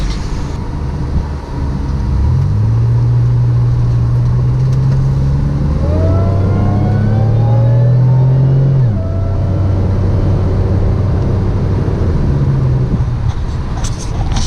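A 1997 Pontiac Grand Prix GTP engine revs repeatedly while driving, rising and falling in pitch over steady road and engine noise, close and loud with no talking; the car has a faulty, rewired fuel pump circuit.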